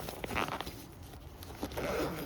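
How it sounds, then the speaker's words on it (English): A zipper runs shut on a fabric storage bag that packs fender covers, a short close, soft pull with a few quick rasping strokes and no voices. "it zips up nice and tight"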